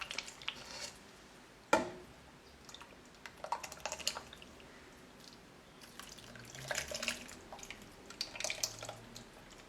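Grated tomatoes and chicken stock are poured slowly into a pot, producing a soft, continuous wet trickle and splash with a few drips and small knocks.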